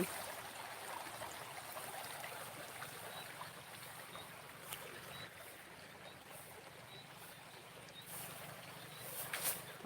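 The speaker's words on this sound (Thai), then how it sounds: "เราชมน้ำไหล" Floodwater pours across a flooded rice field in a continuous, even rushing noise that holds steady for about ten seconds outdoors, without any clear speech.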